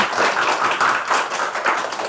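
A lecture audience claps vigorously, many hands producing a thick, continuous, loud round of applause with slight swells throughout the two seconds.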